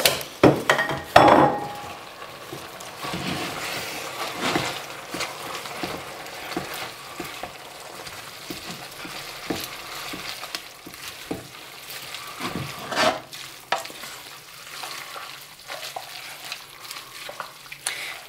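Rocket, spinach and watercress stirred into a hot pan with pesto trapanese, giving a soft steady sizzle under scraping stirs and occasional clinks of a utensil against the pan, close and moderately loud throughout.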